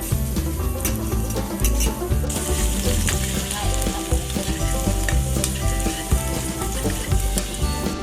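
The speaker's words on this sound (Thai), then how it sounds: "พอน้ำมันร้อนก็กระเทียมที่สับใส่ลงไปผัด" Hot oil sizzles steadily as chopped garlic is stir-fried in a pan, with occasional sharp scrapes and clinks of a utensil against the metal.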